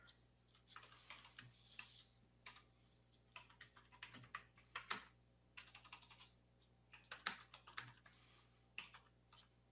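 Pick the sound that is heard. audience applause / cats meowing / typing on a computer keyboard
typing on a computer keyboard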